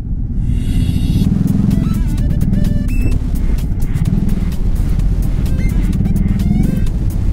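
A trail bike motorcycle rides through city traffic with a loud, constant engine rumble close by, while passing vehicles and scattered clicks and rattles come through around it.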